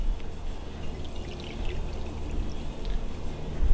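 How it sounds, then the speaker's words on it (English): Water poured from a cup into another glass in a kitchen, a steady continuous pour with a faint splashing trickle, close up and alone with no talking. "Pour it into another glass."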